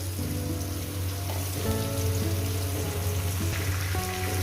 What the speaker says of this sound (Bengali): আলু আর কুমড়ো মিনিমাম চার পাঁচ মিনিট ধরে আমি ভেজে নেব